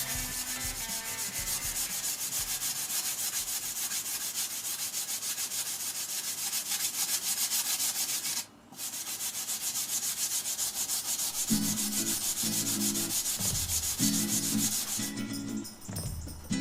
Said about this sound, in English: it's a bit more rusty, so the blue coarser block will cope with that heavy rusting